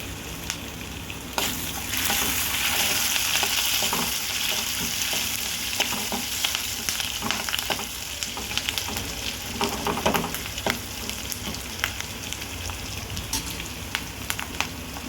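Curry leaves and crushed garlic cloves hit hot tempering oil for a South Indian dal soup, erupting into a loud, steady crackling sizzle after a brief quiet start, with occasional sharp pops and stirring scrapes throughout.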